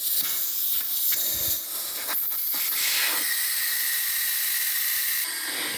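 Air hissing hard out of a tire valve stem with the valve core removed, a loud continuous rush close by that shifts tone partway and then holds steady, with no voices.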